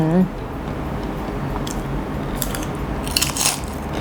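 Crisp crunching bites of Korean fried chicken close to the microphone, with a brief hum at the start and sharp crackles toward the end over steady background noise.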